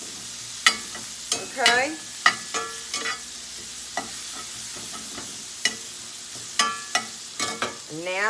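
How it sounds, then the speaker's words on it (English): Garlic cooking in a pan while an oven preheats, with scattered short clatters and scrapes and a faint steady sizzle underneath; a voice speaks a single brief word. "I've got my garlic in here. I'm going to let that cook for just a minute."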